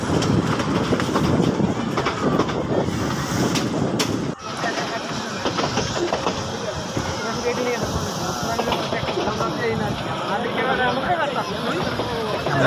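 A DEMU train running into Gendaria station, heard from inside: continuous wheel rumble and hissing rail noise with clatter, a brief sharp jolt midway, and people talking over it.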